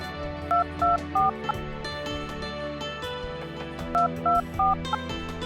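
Telephone keypad tones beep as a number is dialed, two quick bursts of three or four short, bright beeps separated by a pause, heard over a quiet room hum.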